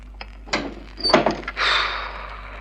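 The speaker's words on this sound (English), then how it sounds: "Let me close the door." A door is closed in a dramatized crime story: a couple of soft knocks and a firmer thud in quick succession, followed by a lingering breathy hiss, all moderately loud and close, with no talking.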